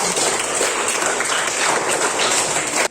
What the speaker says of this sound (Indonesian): kita kasih aplaus untuk kita